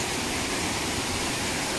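Mantayupan Falls in Barili, Cebu, pours as a steady, broadband rushing hiss of falling water, constant and moderately distant with no break or voices.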